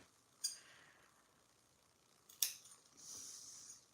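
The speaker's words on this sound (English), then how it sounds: "I like to cut the little tip off like that" Scissors snip the small tips off the corners of a handmade hanging dish towel topper: two crisp, close snips about two seconds apart, followed by a soft rustle of handling.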